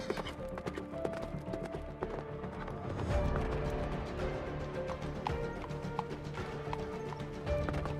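Rapid clip-clop of horses' hooves galloping, loud and continuous, with a horse whinnying amid the rumble of the herd.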